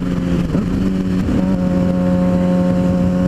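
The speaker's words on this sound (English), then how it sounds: "let me show you again with rev matching. Get back up into 6th gear again here, and I'll go down 2 gears with it" Motorcycle engine droning steadily in high gear, then two quick rev blips as it downshifts two gears with rev matching, loud and close throughout.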